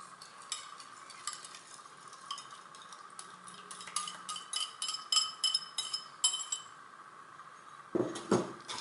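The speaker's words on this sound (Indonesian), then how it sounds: "Kita aduk sampai rata," Martabak batter being stirred into egg batter in a bowl, steady clinking and scraping of a utensil against the bowl, close up and alone, with a brief louder clatter near the end.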